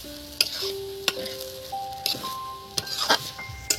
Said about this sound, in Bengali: দিয়ে একটু নেড়ে চেড়ে নেবো।